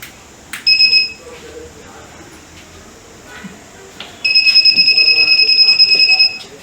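Student-made smart goggles warning of nearby obstacles sound a steady, high electronic buzzer tone in two bursts: a short one near the start and a longer pulsing stretch at the end, with quiet background between.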